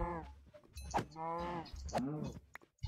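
Several low, drawn-out cow moos from the game Minecraft, three separate harmonic calls spaced about a second apart, fairly close and clear with no talking over them.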